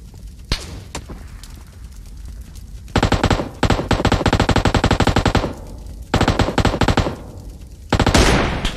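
PUBG Mobile gunfire: loud, rapid automatic bursts of a few seconds each, separated by quieter stretches with scattered single shots and thumps, ending in a harsher blast.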